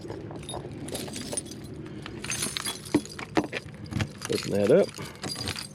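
A set of RV keys jangles while unlocking the door, bright metallic clinks in short bursts close to the microphone, with a person speaking briefly.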